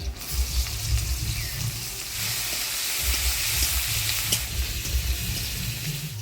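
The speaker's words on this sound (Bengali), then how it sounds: "ফোড়নের সাথে শুটকি মাছটা ভালো করে ভাজা ভাজা করে নিলাম" Dried fish frying in hot oil with black cumin and chopped onion, a steady close sizzle with faint stirring and scraping throughout, no talking.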